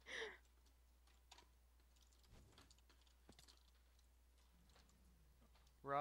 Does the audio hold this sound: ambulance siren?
no